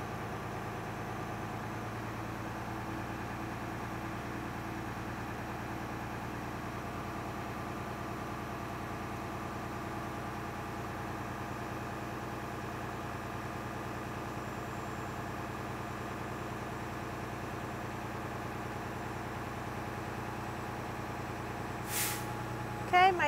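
Truck engine held at steady revs up to about 1,000 RPM to build air brake pressure, a constant low droning rumble throughout with a short hiss near the end.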